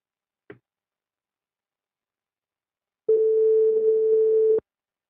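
A telephone busy signal sounds after a call cuts off: a single steady tone lasting about a second and a half, preceded by a faint click, in otherwise near silence.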